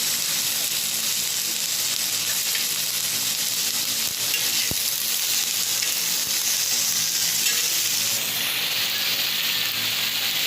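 Onion, tomato and green chillies fry in a pan for a Marathi-style chicken curry, giving a steady, close, loud sizzle with bright hiss that runs the whole time, with a few faint stirring clicks.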